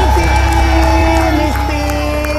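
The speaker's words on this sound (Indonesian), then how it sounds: "Oke, kasih tepuk tangan dulu," A studio audience at an Indonesian rock-themed TV show claps and cheers loudly, a dense roar of hands and voices over a steady musical backing with sustained tones.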